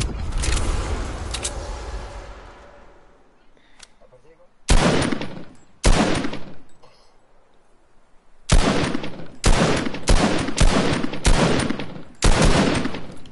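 Gunfire in the video game Fortnite comes in loud bursts: a long opening barrage, two sharp separate shots, then a rapid cluster of five or six blasts with short gaps.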